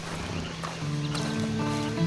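Horse hooves clopping in Red Dead Online, a short stretch of rhythmic hoofbeats over a steady game background, with a faint voice under them.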